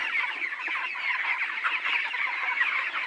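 Hungry poultry farm chickens, left without feed, cluck and chatter continuously as a dense flock, a steady overlapping din with no voices.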